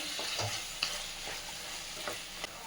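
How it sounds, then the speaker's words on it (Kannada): Ground masala frying in a pan for poha vegetable bath, a soft continuous sizzle with occasional stirring scrapes and light taps, fairly quiet. "ರುಬ್ಬಿರೋ ಮಸಾಲೆ ಹಾಕ್ತಾಯಿದ್ದೀನಿ."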